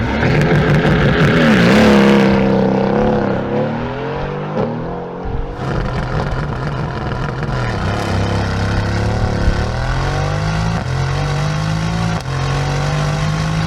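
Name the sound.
twin-turbo V8 car engine revving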